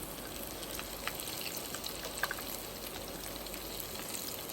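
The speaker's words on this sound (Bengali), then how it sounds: "এটা মিডিয়াম আছে আস্তে আস্তে করে অনেকক্ষণ পর্যন্ত ভাজতে হবে" Lentil dumplings for doi bora frying in oil at medium heat, a steady soft bubbling sizzle with occasional tiny pops, fairly quiet and with no voices.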